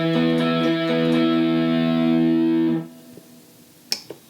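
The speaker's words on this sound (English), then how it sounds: "I'm gonna play about 3 notes just to hear what the different sounds are." Electric guitar played through a VHT V-Drive overdrive pedal on its first setting, a few sustained distorted notes ringing together for almost three seconds, then cut off, followed by quiet and a couple of faint clicks.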